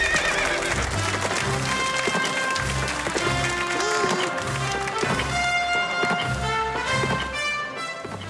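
A horse neighs loudly while hooves clip-clop in a steady rhythm, close and prominent, with bright musical tones layered over the whole stretch.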